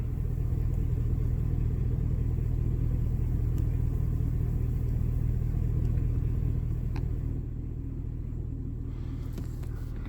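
A truck rolls along a farm access road, its low engine rumble and road noise steady and close, with faint ticks and knocks over the drone before it eases slightly near the end.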